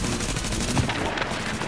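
Rapid, sustained gunfire from The Division beta's Dark Zone as a player shoots at an NPC, with dense overlapping bursts running continuously at a loud, steady level.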